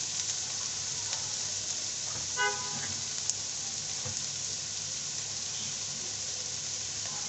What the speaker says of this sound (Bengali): ফুটানো পানি দিয়ে দেবো।